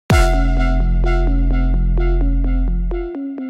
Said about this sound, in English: the timbre from oscillator 2 will affect oscillator 1, making it sound higher pitch than it was before.